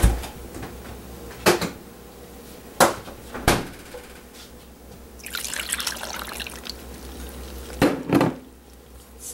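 A cup of milk pours into a pot of potato soup in a brief, splashy burst of liquid, with a few sharp clunks of kitchen utensils before and after it.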